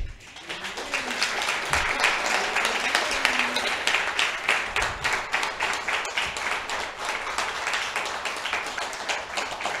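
An audience claps warmly for participants at a creative writing showcase, a dense and steady round of applause lasting several seconds with a slight tapering rhythm near the end.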